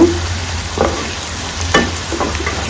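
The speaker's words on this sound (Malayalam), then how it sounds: "ഉള്ളി ഫ്രൈ ചെയ്തുകൊണ്ടിരിക്കുന്നു." Sliced onions frying in hot oil in a pan for Kerala-style chicken biryani, a steady close sizzle with occasional stirring scrapes and soft clatter, no voices.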